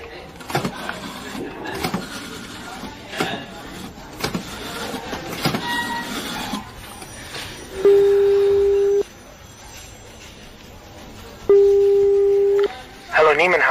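Telephone ringing tone in a radio drama, heard through the receiver as two long steady buzzing rings separated by a pause, after a stretch of murmuring voices and faint handling noise.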